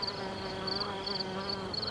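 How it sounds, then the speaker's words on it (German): Bees and other insects buzz continuously on a hot summer day, a close, steady drone with faint wavering tones rising and falling. "Die Biene ist jetzt natürlich am fleißigsten. Und alles summt und brummt."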